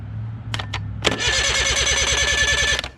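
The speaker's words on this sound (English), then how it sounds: "once you touch this, it should turn over" An outboard engine's electric starter cranks from a 12-volt battery, giving a loud, rapid, steady whir with a rhythmic pulse for nearly two seconds, after a couple of sharp clicks.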